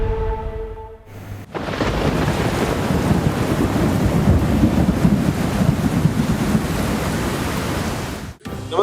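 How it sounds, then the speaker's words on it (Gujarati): Heavy rain during a downpour in Ahmedabad, a loud dense roar of rainfall and gusting wind that starts abruptly and holds steady for several seconds before cutting off. "અમદાવાદ કે જે આજે ભારે વરસાદના કારણે ડૂબી ગયું"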